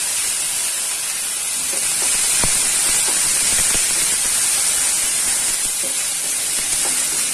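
Ginger-garlic paste with a little green chilli fries in a hot pan, giving off a continuous, steady hiss and sizzle, with a few faint clicks and taps over about seven seconds and no one speaking.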